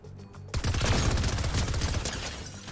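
Rapid gunfire bursts in a Fortnite match, a dense loud volley of sniper and automatic shots that starts abruptly and continues without pause.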